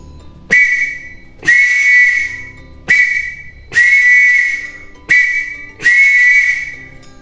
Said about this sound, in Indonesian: Untuk tanda baca titik bunyinya seperti ini.